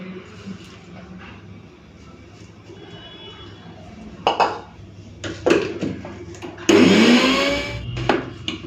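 Mixer grinder grinding coriander leaves without water, where some handling clatter and knocks of the jar lead into a loud, close whirring burst of the motor near the end.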